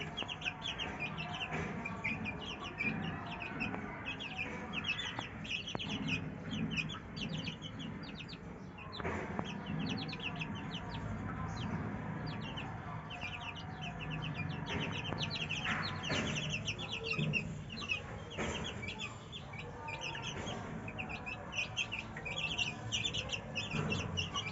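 One-month-old Aseel chicks cluck and chirp as they scuffle and play in soil, a steady busy chorus of peeps and clucks over constant background noise.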